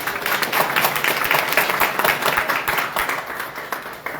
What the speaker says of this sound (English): I don't know if I had an applause like that